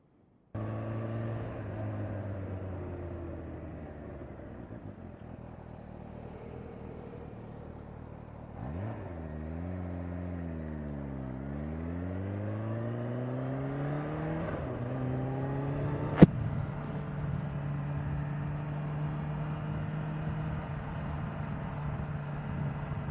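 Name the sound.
Kawasaki H2 supercharged motorcycle engine accelerating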